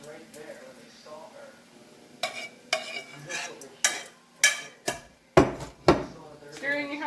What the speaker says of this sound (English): Stirring your jalapenos.